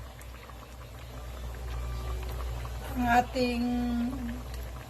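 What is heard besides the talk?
liquid boiling in a pot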